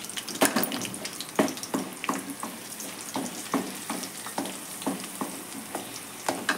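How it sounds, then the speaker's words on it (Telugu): Cinnamon and cloves sizzling in hot oil over a low flame for a traditional Indian prawn fry, with a steady crackle punctuated by sharp stirring clinks at a fairly even pace, close and moderately loud, with no voices. "కొంచెం లో ఫ్లేమ్లో పెట్టుకొని కొంచెం ఫ్రై అవ్వాలండి"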